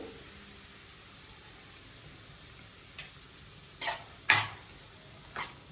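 Semolina (rava) is stirred as it fries in a pan over low heat: a few scattered, sharp clinks and scrapes of the utensil against the pan rise above a faint background hiss.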